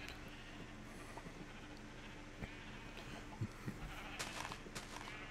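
Sheep bleat faintly a few times in the Minecraft video game, brief calls under a steady low background hum.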